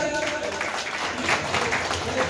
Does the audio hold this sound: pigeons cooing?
no